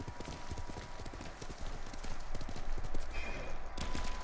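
Horse hooves clip-clop in quick, steady succession in the video game Ghost of Tsushima, a fairly quiet, even trot that continues without pause and is joined by a brief whinny.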